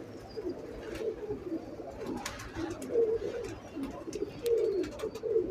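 A Teddy breed pigeon coos repeatedly in a low, throaty rhythm, several soft rolling calls overlapping at close range with no voices.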